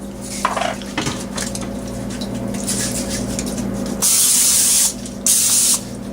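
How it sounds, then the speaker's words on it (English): Two short bursts of Pam cooking oil spray hiss loudly over quiet kitchen clatter, each lasting under a second with a brief pause between. "I always use a little bit of Pam and just spray a little bit of that"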